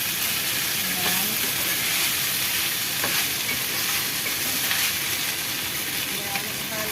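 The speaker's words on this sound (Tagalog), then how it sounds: "ilagay na natin yung fried eggplant. Ihalo na natin siya." Fried eggplant and minced pork being stir-fried in a pan, with a steady loud sizzle and hiss of hot oil and scraping stirring strokes throughout, no talking.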